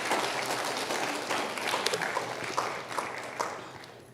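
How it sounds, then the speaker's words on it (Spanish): A church congregation applauds together in a steady, dense wash of clapping that holds for about four seconds, with a few sharper claps standing out. "Denle un fuerte aplauso al Señor."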